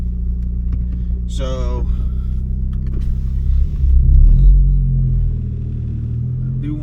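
A Ford Focus ST fitted with a Sidewinder turbo kit, a new wastegate spring and a new fuel pump drones with a low, steady engine rumble while driving and swells briefly as it picks up speed, with a short voice heard near the start.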